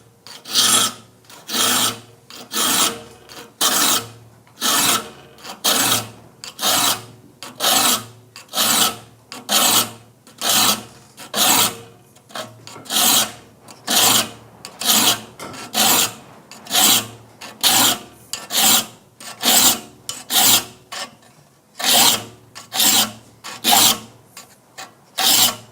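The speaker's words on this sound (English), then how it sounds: "One thing you want to keep in mind when filing the saw is that you want the file to be" A hand file rasps across the teeth of a rip saw in steady, evenly spaced strokes, a sharp metallic scraping repeated over and over, close by with no talking.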